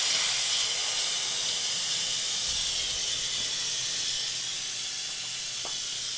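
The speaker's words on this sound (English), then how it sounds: "There's the steam coming up." A pressure cooker vents steam in a loud, continuous hiss that holds steady for several seconds, close by and with no voices.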